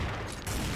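Gunfire in the online shooter XSHOT, a brief dense burst of shots, loud and close, with a slight break midway before firing resumes.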